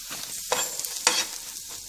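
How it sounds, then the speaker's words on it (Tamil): Onions fried with turmeric and store-bought chicken masala for a Manila tamarind fruit fry are stirred in a pan, with a soft continuous sizzle broken by two louder scraping strokes of the spoon. "நல்லா ஃப்ரை பண்ணிக்கங்க"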